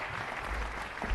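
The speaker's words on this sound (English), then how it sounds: "Give him a round of applause." A brief burst of applause from the audience at a city council meeting, a dense, fairly loud wash of clapping lasting only about a second.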